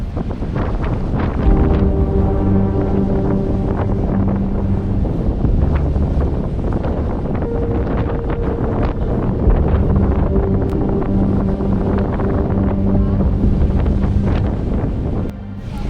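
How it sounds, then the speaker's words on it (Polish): Strong wind buffets the microphone in a constant low roar near Goðafoss waterfall, Iceland, with a steady hum of an engine or motor underneath. "zdecydowanie jest to najbardziej wietrzny dzień, jaki miałem podczas mojego pobytu"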